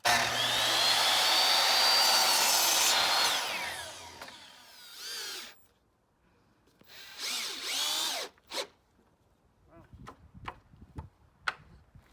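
A power drill drives screws into the wood of a raised garden box with metal siding, one long loud whirring burst followed by quieter short drill bursts and sharp taps.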